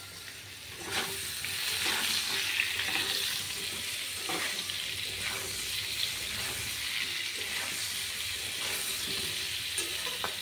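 Food sizzling steadily in a hot pan as it is fried and stirred, with a continuous crackle and occasional scraping strokes, fairly quiet and close, with no talking.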